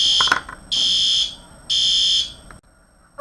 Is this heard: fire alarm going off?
yes